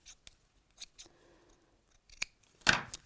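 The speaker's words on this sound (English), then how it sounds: "Snip those off." Scissors snip off loose threads during a sewing session, giving several short, crisp cuts spaced apart, with a louder, longer snip near the end; close and quiet, with no talking.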